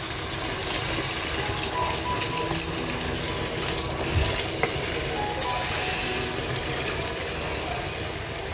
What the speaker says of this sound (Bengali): এবার আমি এতে জল দিয়ে দিচ্ছি